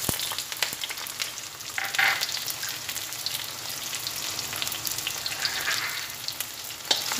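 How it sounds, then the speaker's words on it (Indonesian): Shallots and chilies hit hot oil for a petai and squash stir-fry, giving a steady, close, crackling sizzle with small spits and pops that carries on without any talking. "Ini minyaknya sudah panas ya teman-teman, saya masukkan bawang-bawang cabenya."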